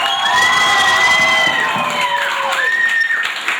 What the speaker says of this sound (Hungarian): Táncsi tanárunknak érte egy nagy tapsot!